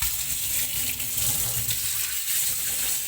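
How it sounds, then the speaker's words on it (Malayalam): Water pours steadily over a freshly cleaned surface, a close, continuous splashing gush that runs without pause and with no talk. "വെള്ളം ഒഴിച്ച് ഞാൻ കാണിച്ചു തരാം."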